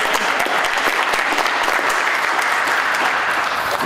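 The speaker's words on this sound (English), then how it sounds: "Okay, now we clap." Applause from an audience at a school board meeting, loud and dense steady clapping filling the room for a few seconds with no speech over it.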